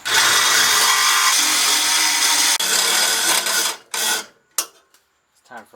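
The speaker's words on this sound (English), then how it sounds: "I'm going to cut it with the Sawzall" Sawzall reciprocating saw cutting through a clamped metal intake pipe, loud and close with a continuous harsh buzzing rasp, then stopping and restarting in short bursts before falling silent.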